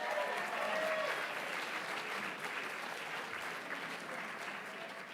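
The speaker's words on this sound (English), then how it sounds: "give all of those amazing people one more big round of applause" Audience applause at the 50th annual Neil Kelly memorial charity auction, a dense, steady wash of many hands clapping throughout, loud and continuous without pause.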